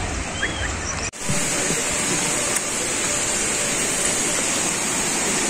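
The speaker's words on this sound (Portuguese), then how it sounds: "Estamos aqui na cachoeira." A waterfall at night roars with a loud, constant rushing of water, steady and close throughout, briefly interrupted by a short dropout near the start.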